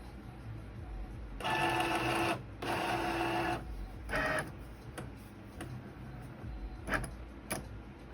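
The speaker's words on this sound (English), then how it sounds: "So what the Cricut is doing now, it is reading these black registration marks on the sides to make sure that it's within the parameters before it cuts." A Cricut cutting machine reads black registration marks on a printed sticker sheet, giving off mechanical whirring bursts that start and stop, with a few fainter motor passes and small clicks between them.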